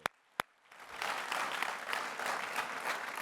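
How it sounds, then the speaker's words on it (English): After two sharp isolated claps, an audience at a public speaking talk breaks into full applause, dense steady clapping filling the rest of the moment. "Big round of applause for Peter"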